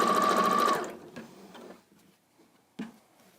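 A sewing machine stitching quilt block pieces whirs loudly for under a second, then drops to faint clicks and fabric handling with one sharp tap near the end.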